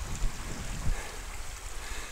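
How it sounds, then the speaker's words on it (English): Creek water in Arizona washes over a worn boulder, making a steady close rushing hiss with no pauses, mixed with some wind noise. "The water washes over it."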